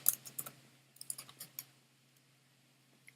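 Typing on a computer keyboard, a quick cluster of light clicking keystrokes close up, thinning to a few scattered taps before falling quiet.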